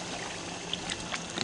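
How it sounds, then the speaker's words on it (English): A small waterfall on a spring creek gives a steady, soft rush of falling water with faint splashes and trickles, heard from a short distance without any talk. "it's a little bit of a waterfall that they can't get up in there"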